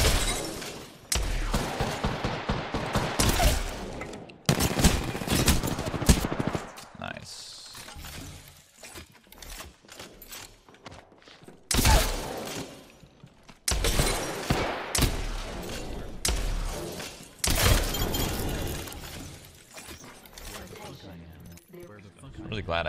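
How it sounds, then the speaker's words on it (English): Shotgun blasts ring out in an Apex Legends firefight as loud, punchy bursts in irregular clusters, mixed with clattering game effects and frequent excited talking. "Glad I had a shotgun in that situation."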